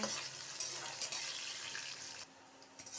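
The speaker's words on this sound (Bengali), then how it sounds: "ফুলকপিগুলো দিয়েছি এগুলাও এবার ভেজে তুলে নিচ্ছি" Steady, loud sizzling of cauliflower frying in hot oil, with a few brief clinks and stirring sounds.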